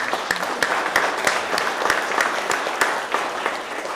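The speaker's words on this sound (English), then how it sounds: "How about a round of applause for that on Veterans Day?" Audience applause on Veterans Day at a talk on hunting in wartime, with sustained clapping from a moderate crowd and a few sharper individual claps standing out over about four seconds.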